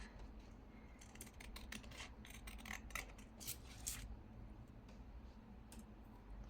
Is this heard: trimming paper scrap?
yes